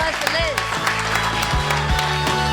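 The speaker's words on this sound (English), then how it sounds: "One big round of applause for" An audience at a bookstore author reading for graphic memoirist Liz Prince breaks into steady applause, a continuous wash of clapping running beneath a voice talking over it.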